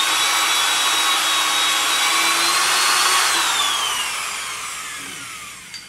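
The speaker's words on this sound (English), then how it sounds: "first thing I'll do is drill that hole a little bit deeper" A power drill bores deeper into a hole in a wooden coffee table leg, a loud, steady whine that holds, then slowly drops in pitch and fades as the bit spins down.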